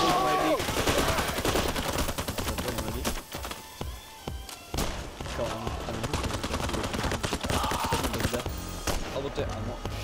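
Gunfire from the video game PayDay The Heist, dense rapid shots rattling almost continuously, briefly thinning for a moment in the middle, loud and busy under game music and effects.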